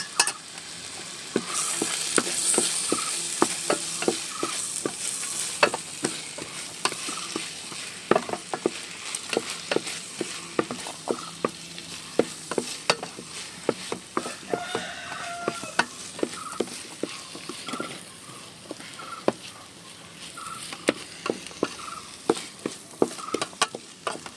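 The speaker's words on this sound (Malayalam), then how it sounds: "ക്യാപ്സിക്കം പച്ചമുളക് കുറച്ച് ക്യാരറ്റ് ഇട്ട് കൊടുക്കാം നല്ലോണം മിക്സ് ചെയ്യാം" Capsicum, green chilli and carrot stirred in a frying pan for chicken biryani, with a steady sizzle and many quick scraping stir strokes throughout, fairly close and continuous, no talking.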